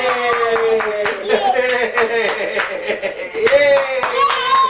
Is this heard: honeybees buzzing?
no